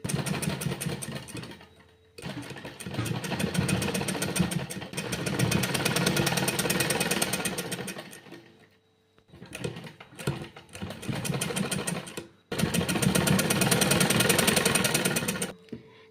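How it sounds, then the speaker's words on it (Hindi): Close, loud mechanical clatter from a sewing machine stitching fabric for a neckline design, running in long bursts broken by short pauses, with no one talking. "और एक दूसरी को भी इस तरह से रखते हुए बराबर से सिलाई लगाएंगे।"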